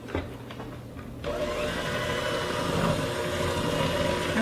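An electric mixer whirs steadily through walnut cookie dough with two cups of flour, a continuous loud motor drone that kicks in after a brief quieter start and holds without pause.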